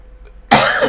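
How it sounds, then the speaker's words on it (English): A single sharp cough bursts out after a quiet moment, close and loud, with a throat-clearing quality that trails off. "I'm trying to get rid of this cough."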